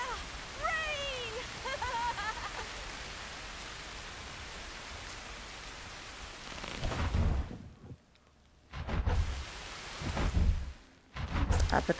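Rain falls in the VR video game Ghost Giant, a soft steady hiss under the action at first, then swelling into louder bursts of downpour later on, with a short musical chime near the start.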